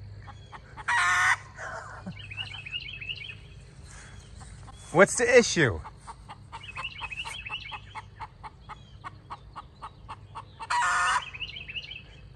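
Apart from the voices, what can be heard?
chicken calling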